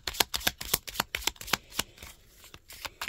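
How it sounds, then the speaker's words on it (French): Crystal oracle cards being shuffled by hand, a series of sharp, crisp riffling bursts in quick irregular rhythm, close and clear, thinning out toward the end. "Donc, je vais les mélanger."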